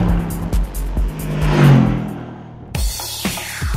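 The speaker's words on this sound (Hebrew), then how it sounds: "מתג רעש אקזוזים, און" A Mercedes-AMG GT engine in sport mode with loud exhaust switched on revs and roars past nearby, rising to a peak and then dropping away, followed by sharp bursts and pops of exhaust.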